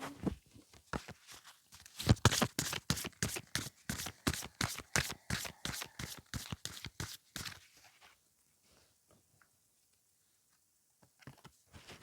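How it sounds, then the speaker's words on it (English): Tarot cards are shuffled close to the microphone in a fast, rhythmic run of crisp riffling bursts for several seconds before falling quiet, with a few soft taps afterward. "Let's keep shuffling."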